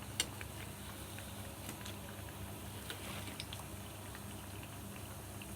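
Bread pakora fries in hot oil with a quiet, even bubbling hiss that holds steady throughout, faint and close, with a few small pops and no talking.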